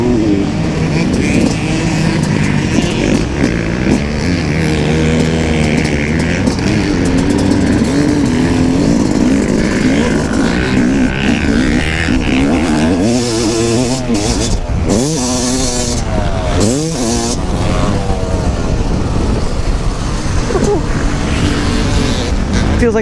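A Yamaha YZ250 dirt bike engine runs steadily while being ridden, loud and continuous, with revs that rise and fall through the second half, and a voice speaks briefly over it.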